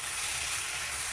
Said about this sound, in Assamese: এইখিনি এতিয়া অলপ ব্ৰাউন কালাৰ হোৱালৈকে ভাজি থাকিম।